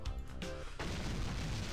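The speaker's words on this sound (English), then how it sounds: "I heard an explosion and felt a shudder through the ground." A single explosion in the game Critical Point hits at about 0.8 seconds as a loud, broad boom and leaves a dense rumbling wash that sustains to the end. A brief tonal sound comes before it.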